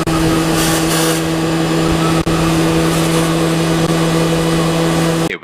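A car engine held at very high RPM, a loud, steady, sustained drone with a strong constant tone that runs unbroken for about five seconds and then cuts off abruptly at the end.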